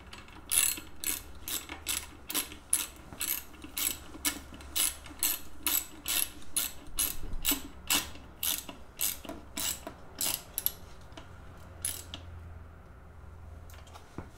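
Ratchet driving a 5/16 Allen bit on a Harley-Davidson throttle body, giving a steady run of sharp, close mechanical clicks in even bursts for most of the stretch, then slowing to a few last clicks alone.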